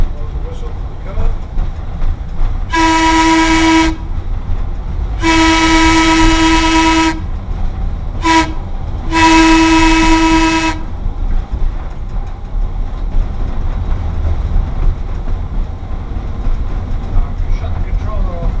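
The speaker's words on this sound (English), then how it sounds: "Blow the whistle for the curve." Steam locomotive whistle blown in three long blasts and one short toot, loud and close, with a steady chugging rumble underneath as the train works through a curve; people talk nearby.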